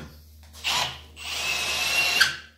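Titan chamfer tool cutting into clamped hardened steel of 50 to 55 Rockwell, heard as two loud grinding bursts, a short one and then a longer sustained cut with a sharp squeal near the end, over a low steady hum.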